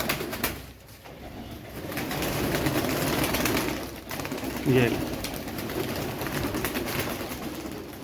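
Pigeons coo softly nearby, low and rounded, while someone talks and wings flutter faintly in the background.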